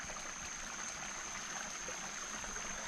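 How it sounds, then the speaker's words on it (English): Water flowing in a nearly dried-up creek makes a steady, continuous hissing rush at low volume, even and unbroken throughout with no voices. "Y'all hear that water flowing in there?"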